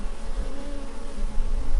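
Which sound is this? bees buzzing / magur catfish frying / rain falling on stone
bees buzzing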